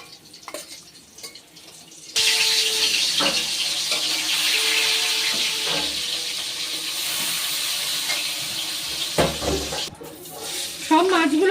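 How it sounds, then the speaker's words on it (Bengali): Pieces of hilsa fish fry in hot oil in a home kitchen, giving a loud, continuous sizzling hiss that starts abruptly after a quieter opening and carries on with occasional clicks and pops. "বাকি মাছগুলো একইভাবে ভেজে নেব।"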